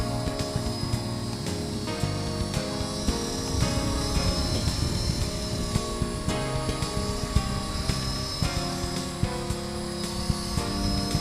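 Blade SR remote-control helicopter flies in a front yard, its rotors giving a continuous buzzing whir that holds close and fairly steady with slight shifts in pitch throughout.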